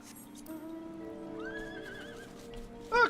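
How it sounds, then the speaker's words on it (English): Water horse creature in a Total War video game giving a whinnying neigh, a descending tonal call over quiet game ambience, followed by a short sharper squeal near the end. "Oh, cool, it's a water horse"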